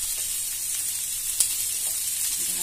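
Onion and garlic sizzle in hot oil as a soft, steady high hiss, fairly faint and even, with one small pop partway through and no speech.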